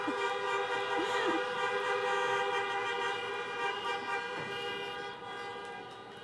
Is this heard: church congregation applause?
no